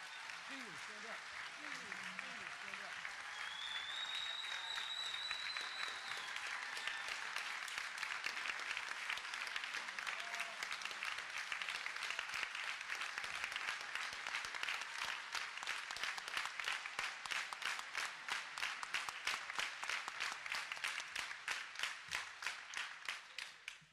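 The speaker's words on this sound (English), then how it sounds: "They're pretty good at that clapping thing." Audience applause at a high school band concert, building from scattered claps with a faint voice into sustained clapping, then settling into a rhythmic, unified beat of many hands clapping in time.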